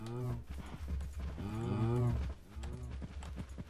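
A cow in the Minecraft video game gives a long, close, tonal moo that rises and holds before fading. Soft clopping steps sit underneath it.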